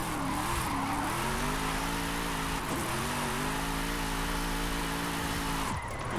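A Jaguar race car in a drifting video game, its engine droning steadily with rising and falling pitch as it slides through a corner under the handbrake, loud and continuous with a brief dip near the end.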